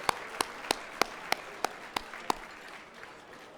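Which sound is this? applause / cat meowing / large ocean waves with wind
applause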